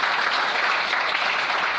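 A church congregation applauds and cheers the Lord together, a dense steady wash of clapping that stays loud and continuous throughout without a break.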